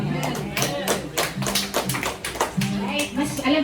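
A congregation at a church service claps, with scattered uneven hand claps under someone talking steadily over them.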